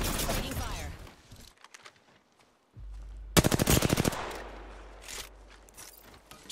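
Automatic gunfire in an Apex Legends match: scattered shots early on, then a loud rapid burst of fire mid-clip, over ongoing game sounds.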